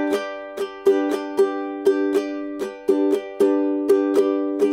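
An acoustic guitar strummed with the nails of the thumb and index finger in a steady rhythm, each crisp down and up stroke ringing a full chord, close and clear with no voices.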